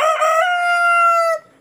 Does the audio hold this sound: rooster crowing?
yes